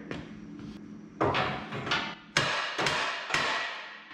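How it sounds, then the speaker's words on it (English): Sharp hammer strikes on metal during a DIY disc brake conversion and exhaust kit install in a home garage, several loud impacts at irregular intervals with short ringing tails. "You gotta use a bigger hammer."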